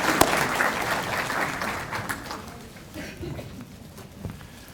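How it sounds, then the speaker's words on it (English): A live audience claps and cheers in a room, loud at first and then tapering off over several seconds into scattered claps. "Let's give her a hand."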